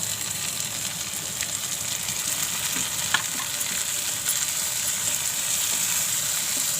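Tomato hitting softened onion in a pan gives a constant, fairly loud frying sizzle close by, with occasional faint crackles and light utensil knocks throughout.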